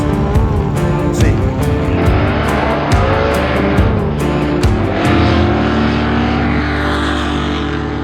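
A 1967 Sweptline truck makes a drag racing pass at the Duct Tape Drags, its engine roaring loud and close through several sharp gear changes before fading as it pulls away down the strip.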